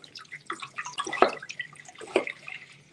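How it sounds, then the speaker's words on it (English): Spring water splashes and drips into a cooking pot meant for potatoes, producing irregular bursts of liquid with two sharper splashes, moderately loud and close, with no voices. "Gonna add some water here"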